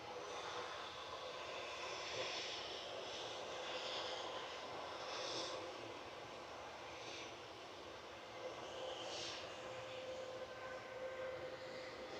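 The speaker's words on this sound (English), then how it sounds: "Lufthansa A321 Classic heading back to Frankfurt, DAIRP, with flight 947." A Lufthansa A321 Classic jet, registration D-AIRP on flight 947 to Frankfurt, departs Manchester Airport with a faint, distant, steady engine roar that stays even throughout and has no voices over it.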